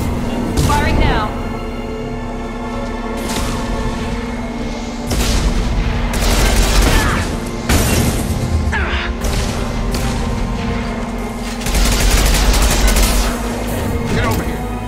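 Gunfire in the Mass Effect 2 video game: repeated loud bursts of rapid shots and heavy booms over a constant low hum, with voices breaking in between the volleys.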